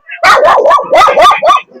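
A dog barks rapidly several times in close succession, loud and near, with short yelping, whining tones between barks.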